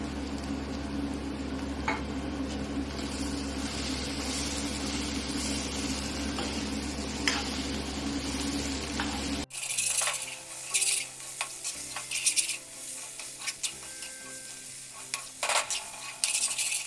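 A ground spice mixture of cumin, black pepper, chili powder and dried fenugreek leaves is stir-fried in a pan for bread cutlets, a steady sizzle with a low hum, then sharper scraping and stirring clatter after an abrupt change.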